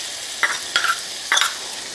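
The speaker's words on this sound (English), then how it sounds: "Just going to continue to stir this to make sure that garlic doesn't burn." Garlic and a small diced shallot sizzle in butter in a pan while being stirred, with three short scraping stir strokes rising over a steady, close frying hiss.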